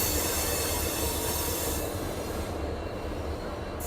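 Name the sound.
Jaipur–Jodhpur Intercity train passing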